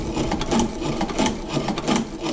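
An ungreased Chinese shoe patcher sewing machine runs smoothly, its needle mechanism giving a steady, close, rhythmic clatter of repeated stitching strokes with no break.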